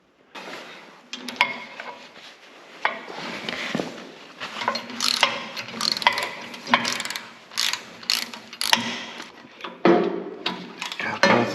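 A wrench ratchets and clicks while loosening bolts on a jointer cutterhead, giving irregular metallic clacks and turning strokes up close, with a voice speaking briefly in the background.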